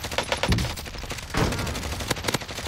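Gunfire in the battle royale shooter Call of Duty: Warzone, heard as several dense, sharp bursts that crack out at close range over a steady background of game noise.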